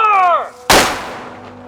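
A historical cannon at Pea Ridge fires a reduced black-powder blank, one sudden loud boom right after a shouted command, followed by a decaying rumble and echo outdoors.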